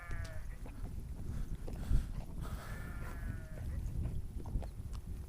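Sheep and lambs bleat in several drawn-out calls close by, with horses nearby and faint hoof clatter and rustling beneath.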